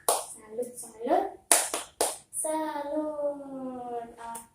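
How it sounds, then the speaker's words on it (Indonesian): Audience at a community health and nutrition training session in Indonesia doing a rhythmic 'tepuk salut' clap chant: a few sharp, spaced hand claps mixed with chanted voices, ending in a sustained sung syllable. "Kita tepuk salut nih buat semuanya ya."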